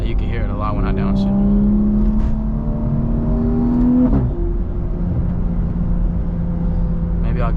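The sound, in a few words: BMW B58 engine turbo and exhaust while downshifting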